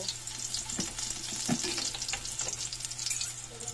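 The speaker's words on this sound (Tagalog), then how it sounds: "Na yung kawali. May mantika na yan siya guys. Ito na yung bawang." Garlic frying in hot oil in a pan for squid adobo, a steady close sizzle with occasional stirring scrapes and crackles, no voices.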